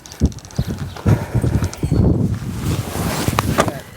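A black stud horse walks with close, loud hoof clops in an uneven rhythm, with some shuffling and a faint whinny-like tone late on.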